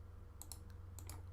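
Short bursts of computer keyboard keystrokes and mouse clicks while copying and pasting start code for a Dagoma Neva 3D printer, a few quick clustered clicks over a steady low hum, close and fairly faint.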